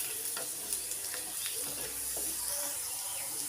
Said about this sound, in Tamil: புளி நல்லா இந்த எண்ணெயிலே நல்லா வதங்குற அளவுக்கு இதை நல்லா வதக்கிக்கலாம்